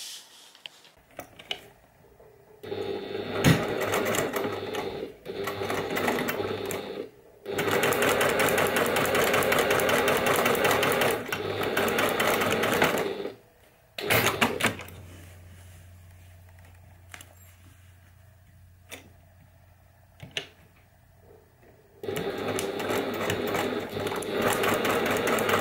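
A sewing machine stitches pieces of a memory bear, running in long steady bursts with short pauses between seams, close and loud with no talking.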